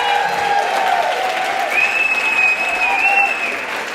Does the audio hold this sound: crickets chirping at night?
no